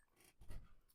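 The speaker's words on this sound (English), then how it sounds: "That's my dog joining me" A dog gives a short snort and low growl, close by and quiet, a brief breathy burst with faint background hiss and no one talking.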